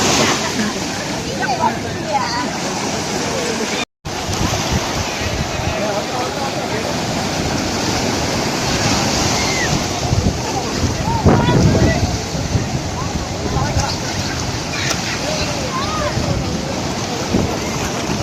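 Ocean waves wash onto the beach at Kanyakumari, a broad, continuous roar of surf mixed with heavy wind buffeting the microphone, loud and close, while someone talks over it.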